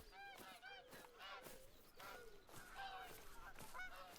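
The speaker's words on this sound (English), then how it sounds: "Hearing more geese again." Several geese honk repeatedly in the video game theHunter: Call of the Wild, an irregular series of loud, nasal calls, some overlapping, fairly close.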